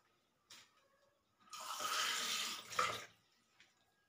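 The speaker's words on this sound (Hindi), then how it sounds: "इसमें आधा ग्लास पानी डालना" A short splash, then half a glass of water pours steadily into a pan for about a second and a half before trickling off, close and fairly quiet.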